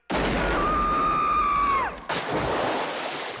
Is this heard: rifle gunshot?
yes